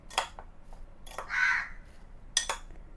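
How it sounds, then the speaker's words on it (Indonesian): A crow perched on a backyard clothesline gives several sharp, harsh caws in quick bursts, close and clear against a quiet background, with one longer drawn-out call in the middle. "burung gagak yang bertengger di jemuran."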